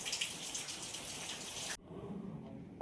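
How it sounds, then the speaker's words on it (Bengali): Steady hiss of heavy rain falling for the first part, then dropping abruptly to a much quieter patter as the rain eases off; no talk. "এই আস্তে আস্তে বৃষ্টিটা এখন একটু কমছে।"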